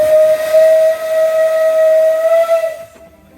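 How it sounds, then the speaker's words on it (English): An Isle of Man steam train's whistle sounds on departure, one loud, sustained shrill tone that holds for nearly three seconds before cutting off into near silence. "There's the whistle. We're off."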